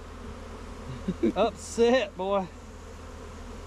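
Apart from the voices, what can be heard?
angry honeybees buzzing around the camera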